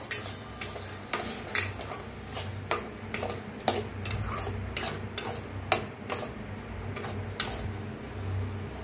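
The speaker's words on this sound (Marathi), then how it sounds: "आपण मिक्स करून छान असं भाजून घेऊया" A spoon scrapes and knocks against a pan in irregular strokes, roasting sambar spice paste, while a soft sizzle of frying runs underneath.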